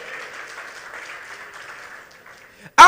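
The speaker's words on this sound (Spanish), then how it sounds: "Denle un aplauso al Señor y sonríanle al Rey que Cristo vive." Applause from a church congregation, a steady broad patter of clapping lasting under three seconds and fading slightly before a sudden loud burst at the end.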